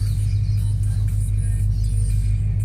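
A Ford Ranger pickup fitted with a Lexus V8 engine idles with a deep, steady, loud rumble close by, unbroken for the whole stretch.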